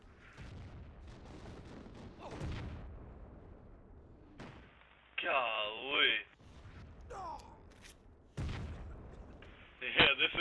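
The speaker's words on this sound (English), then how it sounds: "there's an artillery being called right on top of us" Artillery barrage in the Project Reality video game, heavy booming blasts landing close by, several loud bursts around the middle and again near the end, mixed with radio-style voices talking throughout.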